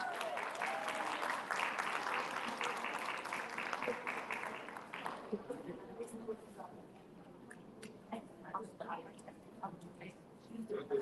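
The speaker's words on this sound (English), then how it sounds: "let's give a big round of applause" A crowd applauds loudly for several seconds, then the clapping thins into scattered claps as voices begin speaking.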